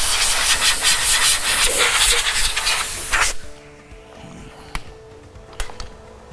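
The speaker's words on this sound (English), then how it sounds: "I'm going to take my cover and just hit it with a little bit of compressed air to make sure there's no contaminants in there" Compressed air blowing on an engine cover plate during a DieselSite Wicked Wheel 2 install, a loud rushing hiss in short bursts for about three seconds before cutting off, followed by faint clicks and handling noises.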